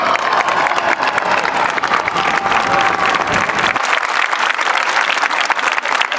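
Crowd at an Armenian Genocide remembrance rally applauding loudly and steadily throughout, a dense wash of clapping with a little cheering.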